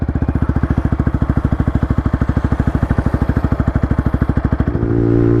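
Yamaha MT-15 motorcycle fitted with a Yoshimura Alpha muffler and silencer, idling up close with a loud, steady, rapid low thumping that swells slightly near the end as the throttle opens.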